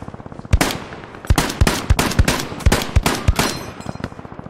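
Video game gunfire rattles in rapid, uneven bursts: sharp, loud cracks, some clustered like automatic fire, with brief gaps between volleys and no talk over them.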